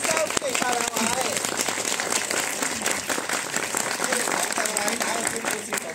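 A cinema audience at a film screening applauds to welcome the film's director and screenwriter, with dense, steady clapping filling the room while voices talk over it.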